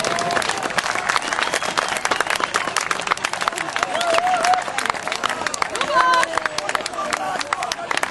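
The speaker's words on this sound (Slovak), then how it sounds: "A poprosím obrovský potlesk pre výbornú kondičku Ľubka Dobrodku." At an outdoor event, a crowd gives lively, close, dense applause for a runner praised for his fitness. The clapping is interspersed with crowd noise and scattered voices throughout.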